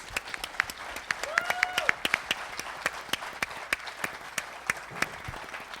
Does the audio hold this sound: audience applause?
yes